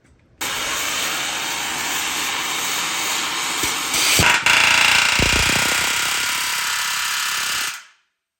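A pneumatic rivet hammer drives a hot rivet on a K10 truck frame, a loud, sustained rapid hammering roar that surges briefly near the middle, then cuts off abruptly to silence.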